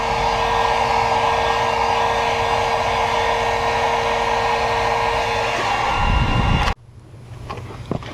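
A heat gun or hair dryer blows steadily and loudly on a side badge of a 2015 Subaru WRX to soften its adhesive, then cuts off sharply near the end, leaving quiet background.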